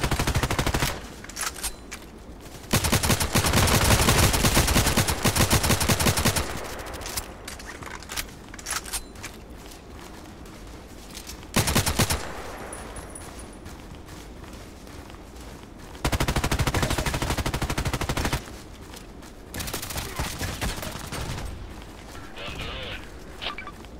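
Gunfire in the online shooter Contract Wars: several long, loud bursts of automatic fire alternate with quieter stretches of scattered shots, while a player talks at times.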